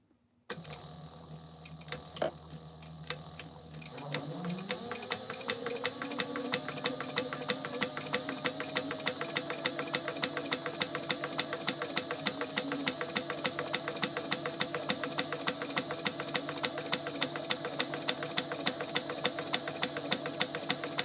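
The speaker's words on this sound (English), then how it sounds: "we're going to top stitch this one" A sewing machine topstitches a plaid basketweave tote. After a quiet start it speeds up into a steady, rapid run of needle strokes that stays even. The sound is close and moderately soft, with no talking.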